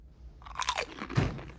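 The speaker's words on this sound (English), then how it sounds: "I know you're eating in my classroom, Luke." A crunchy snack is chewed close up in a classroom, a few quiet, quick crunching bites in a short burst with no talking.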